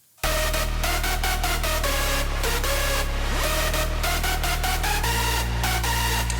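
Layered synth basses and bright synth leads from an electronic track play together at a steady, loud level, with rhythmic pulsing chords and a bass pattern that shifts in pitch every couple of seconds, no voices.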